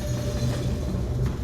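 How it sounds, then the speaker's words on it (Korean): A train runs through the dark toward a tunnel in 1977, with a continuous loud rumble and low droning hum that stays steady throughout. "어둠 속을 달리던 기차가"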